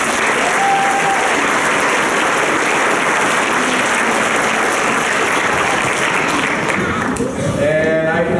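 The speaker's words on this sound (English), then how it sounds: "let's give them one round of applause." Loud, dense applause from a school audience after a sixth grade concert: a steady wall of clapping that holds at full strength for the whole stretch and thins slightly near the end.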